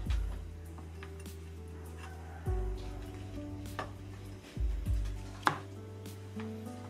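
A knife chops food in a kitchen, with irregular close taps and scrapes over a low, steady background hum, and occasional clinks of utensils.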